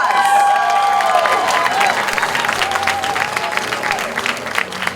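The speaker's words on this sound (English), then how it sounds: "Can we have a round of applause?" Audience applause with some cheering fills a Vancouver election debate hall after the last two candidates are introduced, a dense, steady clatter of clapping that holds loud throughout, with a faint voice or tonal sound over the start.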